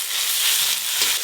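Dried red chili paste hits hot oil in a pan, producing a loud, continuous hissing sizzle with a few soft stirring thumps underneath.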